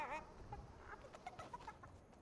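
Chickens cluck in Fortnite, a string of short, fairly faint in-game calls spread through a couple of seconds over a quiet, busy game background.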